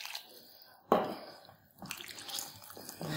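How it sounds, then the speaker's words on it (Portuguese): Water poured into cassava starch dough for fried polvilho biscuits, a few short splashy gurgles and trickles separated by quiet gaps, close and fairly soft. "Deixa eu ver com mais água."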